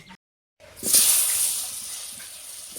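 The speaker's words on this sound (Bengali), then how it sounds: "তেল বেশি গরম হয়ে গেছে, আলু দেওয়া মাত্র একবারে ভগভগানি শুরু হয়ে গেছে।" Potatoes drop into overheated oil after a moment of silence, and a loud, close hissing sizzle bursts up and then slowly tapers off.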